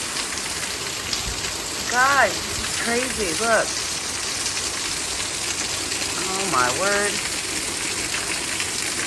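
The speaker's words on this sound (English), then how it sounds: "I cannot believe how it's pouring off my roof." Heavy thunderstorm rain pouring off a house roof, a dense constant roar of rushing water throughout, with a person speaking excitedly over it.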